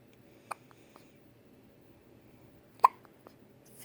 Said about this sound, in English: cutest little hiccups, buddy.